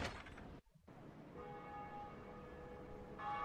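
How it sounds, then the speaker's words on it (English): A single bell tolls faintly with a lingering ring over a steady hum of background noise during Dark Souls gameplay, with no voices. "whenever you're just in gameplay that you'll hear a bell ring"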